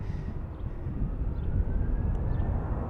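A Delta airliner on runway 34 left at Salt Lake City airport, a steady distant jet engine roar holding at a constant level throughout, with no voices over it.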